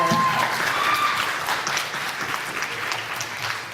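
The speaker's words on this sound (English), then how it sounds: "Can we give him a round of applause, please?" Steady applause from a crowd at an anime Jeopardy event, loud and continuous, with clapping that fades slightly toward the end and faint voices mixed in.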